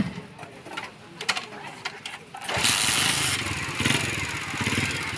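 A 70cc motorcycle engine starts up and runs, a loud close rumble taking over halfway through after quieter clicks and fiddling, with birds cooing faintly in the background.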